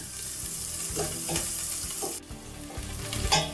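Onions added to oil with already browned garlic sizzle and crackle steadily in a pan, close up, with intermittent stirring scrapes and no talking.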